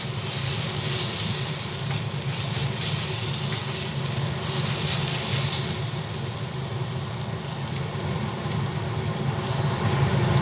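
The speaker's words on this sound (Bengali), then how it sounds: "অল্প পরিমাণে হলুদ গুঁড়ো দিলাম আবার পেঁয়াজ রসুন আদা তিনটেই ভালোভাবে তেলের মধ্যে নাড়াচাড়া করে নিচ্ছি" Onion, garlic, ginger and a little turmeric powder sizzle steadily in hot oil while being stirred in a pan, a constant hissing fry with a faint background of running water.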